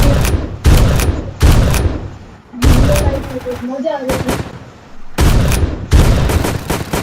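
Shotgun blasts in the Zombie Rush video game, loud booming shots in an irregular series with brief gaps between them, while someone talks excitedly over the gunfire.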